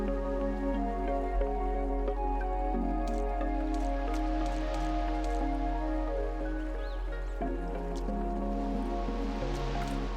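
Water dripping and trickling from a spout in the game Isles of Sea and Sky, soft steady droplets over a sustained musical drone, fairly quiet with no talk.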